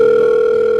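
A phone call ringing out over a cellphone, heard as a steady electronic tone held loud and unbroken without any talk.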